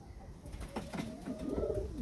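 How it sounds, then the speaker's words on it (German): A pigeon gives a soft, low, rolling coo close by, rising from a faint murmur into a fuller throaty call over about two seconds against quiet background noise. "Tauben sind ja jetzt eigentlich so gut wie ausgewachsen"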